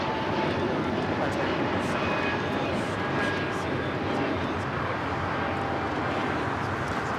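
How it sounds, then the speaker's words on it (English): An Air Canada Airbus A220-300 takes off from LAX runway 25R, a loud, steady jet engine roar holding throughout with broadband rumble, and faint talk beneath it. "First of two Air Canada flights now taking off on 25 right. Airbus A220-300 up first."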